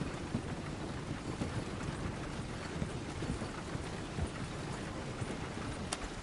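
Horse hooves clip-clopping in Red Dead Redemption 2, a steady rhythmic patter of hoofbeats under a constant wind-like rush, no talk.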